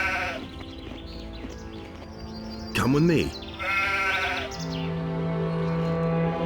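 A sheep bleats once, loud and wavering, amid a person talking briefly and other in-game sounds in Gothic II.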